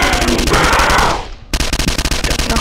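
A Thompson submachine gun in a Roblox match fires loud, rapid automatic bursts, a long stream breaking off briefly before another fast run of shots, close and alone.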